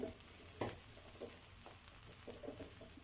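Potatoes for a samosa filling hit a hot pan over a lowered flame, giving a steady close sizzle with a sharp burst at the drop and scattered stirring scrapes, no talk.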